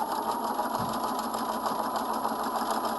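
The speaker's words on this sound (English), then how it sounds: "sew a seam, and that's going to create the back pleat" Sewing machine stitching the back pleat seam of a coat panel, a quiet, even mechanical whir with a fine rapid needle pulse running steadily throughout.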